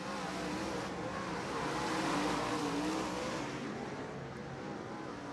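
Modified race cars lapping a track at the East Bay WinterNationals, several engines roaring together in a steady, loud pack that swells and fades slightly as they pass, with no talk over it.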